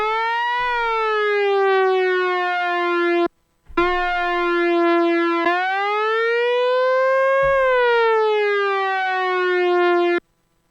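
Behringer K-2 synthesizer notes sustain at steady volume under the envelope hold, each gliding in pitch, then cutting off abruptly. Three long tones come with short silent gaps between them, loud and alone.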